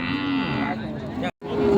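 Cattle low loudly at a rural cattle market in Thailand, a long close moo followed after a brief break by another, with market noise underneath.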